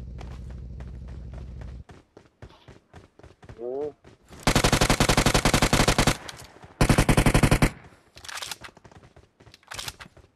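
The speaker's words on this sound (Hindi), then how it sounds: "पीछे फायर का साउंड आया" Bursts of automatic gunfire in the mobile battle-royale game PUBG Mobile, coming from behind the player: two dense rapid volleys in the middle, then scattered single shots, with talk before and between.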